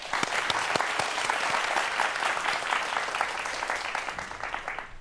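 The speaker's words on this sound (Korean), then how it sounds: "함께해 주시죠. 박수 부탁드리겠습니다." A lecture audience applauds as a professor is welcomed to speak about real-world robots, a dense, steady burst of many hands clapping that fills the room for the full five seconds without letting up.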